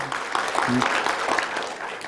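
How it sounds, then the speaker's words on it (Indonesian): Congregation at a church service clapping to welcome a visiting guest: steady group applause of moderate loudness for about two seconds, with voices mixed in. "Kita beri tepuk tangan juga bersama temannya."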